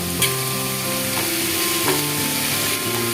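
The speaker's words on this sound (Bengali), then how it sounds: "এবার আমি শাকটাকে রান্না করব" Note shaak, a leafy green, cooks in a pan with a little salt and turmeric, giving a loud, continuous sizzle with faint clicks over a steady tonal hum.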